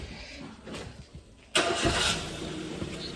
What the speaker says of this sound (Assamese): গাড়ী চাউণ্ডখন আছে ইমান স্মুথ হৈ আছে